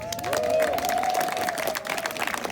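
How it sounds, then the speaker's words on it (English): A crowd at a street renaming ceremony applauds with dense, steady clapping that holds strong throughout, with a faint sustained tone running underneath. "please help me by way of a rousing applause"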